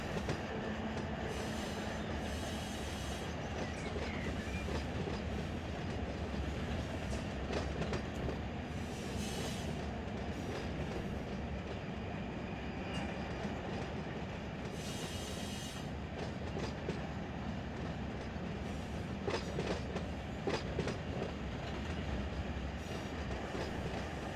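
A long freight train of empty cars rolls steadily in Run 8 Train Simulator, a continuous loud rumble with clickety-clack of wheels over rail joints and occasional metallic squeals, with no talking.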